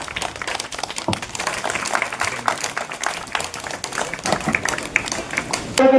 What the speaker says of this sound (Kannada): ಎಲ್ಲರೂ ಚಪ್ಪಾಳೆ ಮೂಲಕ ಸ್ವಾಗತವನ್ನು ಮಾಡಬೇಕೆಂದು ತಮ್ಮಲ್ಲಿ ಕಳಕಳಿಯ ವಿನಂತಿ